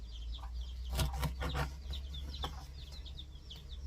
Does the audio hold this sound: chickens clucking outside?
yes